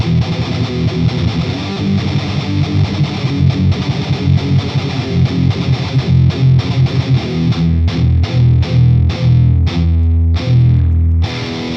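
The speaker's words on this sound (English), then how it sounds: "Just great distortion." Electric guitar played through an Engl Fireball 100 amp into an E412 Pro cabinet with a noise gate, heavily distorted chugging riffs and chords, loud and close, ending in tight rhythmic palm-muted stabs.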